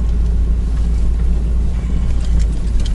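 A Honda car drives off-road behind jeeps, its engine a low, steady rumble heard from inside the cabin with faint rattles and bumps, loud and continuous with no talking.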